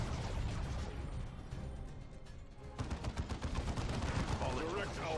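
A high-powered shot fires in the Dawn of War 2 video game, a loud burst that launches a dense stretch of rapid gunfire and explosive battle noise in the second half.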